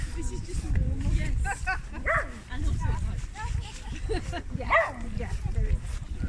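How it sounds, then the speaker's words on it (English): Several dogs bark, yip and whimper outdoors at close to medium range, with people talking intermittently over the noise. "It's Mum with the dogs, letting them off. Just let them run around."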